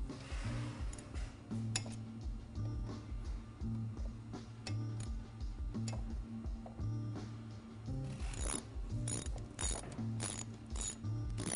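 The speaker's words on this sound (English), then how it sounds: "you're going to want to tighten up your caliper bolts" A ratchet tightens motorcycle brake caliper bolts during a brake rotor install, giving rapid, close clicking bursts in repeated strokes with short pauses, and the clicks grow sharper toward the end.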